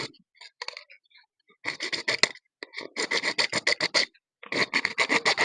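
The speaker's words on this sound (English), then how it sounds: "I'll just cut a small pipe again." A small plastic pipe being sawn by hand, rasping strokes in quick rhythmic bursts with brief pauses between runs, close and fairly loud, no talking.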